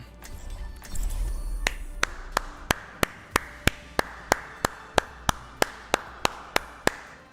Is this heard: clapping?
yes